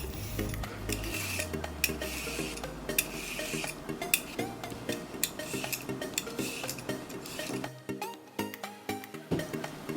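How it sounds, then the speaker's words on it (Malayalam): Washed cucumber, ginger and carrot being peeled in a home kitchen, heard as a steady run of close scraping and tapping clicks against a hard surface, with occasional louder knocks and faint background hum. "ഞാനിതെല്ലാം കഴുകി കൊണ്ടുവന്നിട്ട് ഒന്ന് പീൽ ചെയ്തെടുക്കട്ടെ കേട്ടോ."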